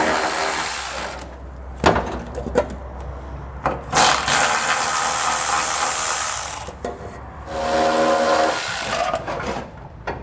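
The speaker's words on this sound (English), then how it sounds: "we're gonna take an 8 millimeter socket and we're gonna be removing all of these metal nuts here" An 8 mm socket on a ratchet backs metal heat shield nuts off a 2016 Mercedes-Benz GLA during a trailer hitch install: several bursts of close, brisk clicking ratcheting separated by short pauses, with no talk.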